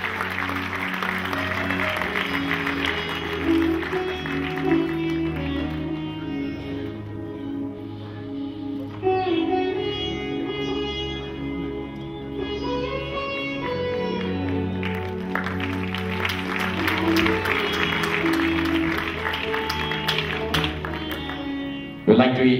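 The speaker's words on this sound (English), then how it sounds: "A big round of applause" An audience applauds at an honouring ceremony for a chief guest, with sustained clapping mixed with loud music and some voices throughout, ending in a sharp burst.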